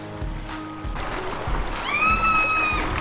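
Kayak paddling through river rapids on a Florida spring run, with steady rushing water and low thumping paddle strokes throughout, plus a brief high whistle-like tone near the end.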